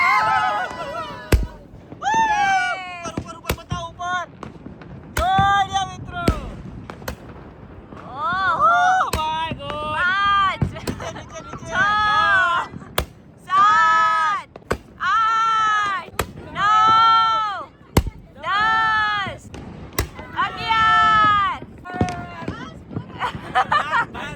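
Diwali firecrackers burst in sharp, scattered bangs, some close and loud, while excited voices shout and chatter throughout.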